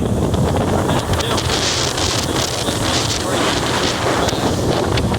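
Steady, loud wind buffeting the microphone aboard a 2019 Bass Buggy 16 ft pontoon boat, a continuous rumbling roar throughout with a faint hiss of water or motor beneath.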